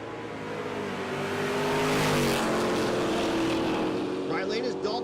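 A naturally aspirated big-block Olds 442 drag car roars down the strip at Texas Motorplex, engine note rising and swelling to a loud peak mid-run before fading, with an announcer talking over it.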